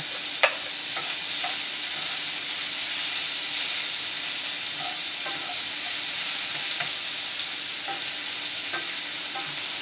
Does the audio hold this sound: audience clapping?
no